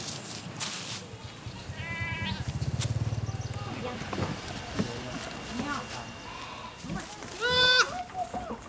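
Goats bleat on a farm in Laos. Several wavering bleats come from close by, with a low engine-like rumble and scattered farmyard noises in between.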